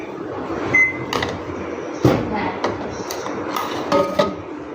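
A microwave oven's buttons beep and click several times, with light clatter of dishes and kitchen handling around it.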